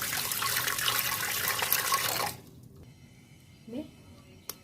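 Water poured into a pressure cooker holding fried mung dal, a loud splashing pour of a little over two seconds that stops abruptly, followed by quiet clatter and a short voice.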